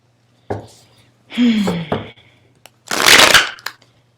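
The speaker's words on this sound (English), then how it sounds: "I'm going to shuffle so we can get back on track." A deck of cards shuffled indoors during a card reading: two brisk riffling bursts separated by short handling taps and pauses, close and fairly loud, with no speech over them.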